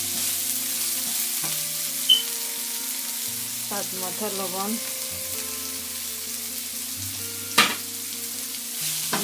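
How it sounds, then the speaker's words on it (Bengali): Chopped onions fry in oil, a steady close sizzle with occasional stirring scrapes, while someone speaks over the cooking. "পেঁয়াজটাকে আমি ভালো করে ভাজবো তেলের মধ্যে"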